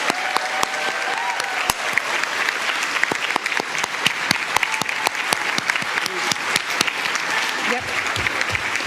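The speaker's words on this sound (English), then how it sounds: "Please give all of our honorees another round of applause." An audience at a school board meeting applauds honorees steadily, a dense patter of clapping hands filling the room for several seconds without letting up.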